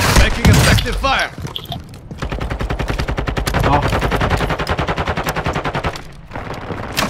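Loud, rapid automatic gunfire from Call of Duty Warzone rattles in a long sustained burst after a few opening shots, up close and dominant throughout.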